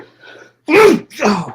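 A single loud, close sneeze bursts out after a quiet moment, then a second breathy burst follows; a faint voice murmurs briefly beforehand.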